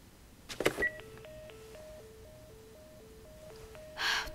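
Telephone line tones in The Last of Us, a video game: after a brief clatter, an electronic tone steps back and forth between two pitches in a steady repeating pattern, then a short burst of noise.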